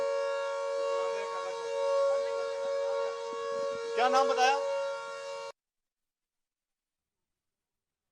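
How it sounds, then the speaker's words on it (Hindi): An air raid siren sounds over Chandigarh as a steady, sustained tone that holds for about five seconds under a few words of nearby talk, then cuts off abruptly into silence. "आप देखिए सायरन किस तरीके से गूंज उठा"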